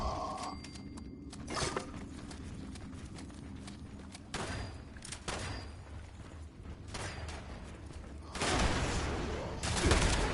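Bursts of gunfire in Fallout 76 crack out in irregular volleys, some clustered into rapid fusillades and others single thuds, with mechanical clanks between them, loud and fairly close, with no talking.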